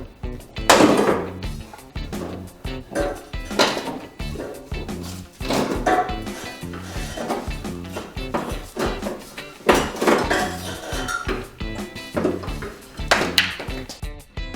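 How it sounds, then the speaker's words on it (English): Hammer blows knocking a rear strut assembly off a car, landing as repeated sharp metallic strikes in irregular bursts across the whole stretch, with no talk. "Make sure you have a good grip of the strut and then hammer it off."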